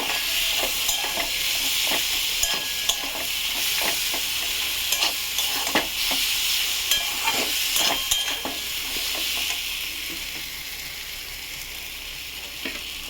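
Spice masala fries in oil for a fish dish while a spoon stirs it steadily, giving a continuous close sizzle with repeated scraping clicks against the pan, no voices.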